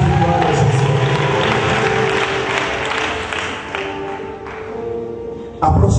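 A congregation at an evangelical night vigil applauds and cheers loudly and steadily, a dense wash of clapping and crowd voices that dips slightly and then surges again near the end.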